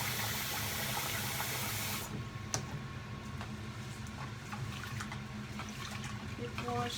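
Rice for one pot rice washed under running water, a steady tap stream with faint clinks and swishes, the flow easing after the first couple of seconds.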